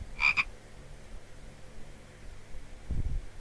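Two short frog croaks from a video game, a quick rasping pair right at the start, then a low muffled thump near the end over a faint steady background hum.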